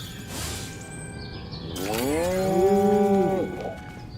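A cow in the video game Destroy All Humans lets out one long, loud, close moo lasting over a second, preceded by faint mechanical game sounds.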